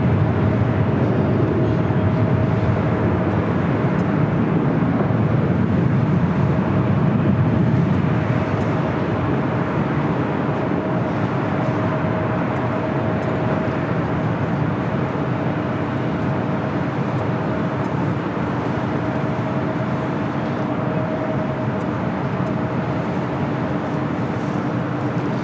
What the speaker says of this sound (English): China Airlines, the A350-900 heading back to Taipei. Making that turn on to Bravo.